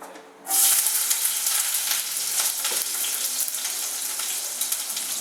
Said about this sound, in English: But I'm gonna first put my red onions in here.